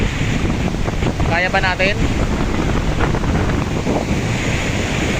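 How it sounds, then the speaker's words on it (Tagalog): Strong sea waves rolling in at a Pangasinan beach, a loud continuous roar of surf mixed with heavy wind buffeting the microphone, and a short spoken question partway through. "malakas ang alon"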